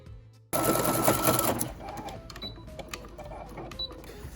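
A sewing machine back stitches a short stretch on a fabric face mask, a loud steady whir that starts abruptly after a quiet moment, then settles into lighter, softer stitching with small clicks.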